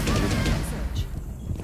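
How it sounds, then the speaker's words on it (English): Rifle gunfire in a video game, a burst of rapid shots over the opening second that fades into softer, distant firing and background game noise. "Why is Blackbeard using a rifle"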